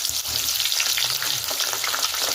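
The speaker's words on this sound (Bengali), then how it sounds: "আলুটা ভেজে নিচ্ছি।" Whole boiled potatoes fry in oil in a kadai for aloo dum, giving a steady, close, bright sizzle with small crackling bursts and no talking.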